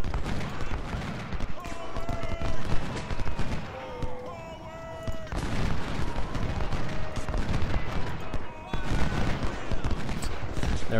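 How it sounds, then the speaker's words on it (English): Artillery booms and rattling musket volleys from the Civil War strategy game Ultimate General: Civil War crackle continuously in a dense battle mix with fluctuating bursts, while someone talks quietly underneath. "Alright, artillery. Let's just keep you firing."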